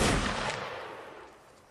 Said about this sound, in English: And now, literally firing as soon as they fire.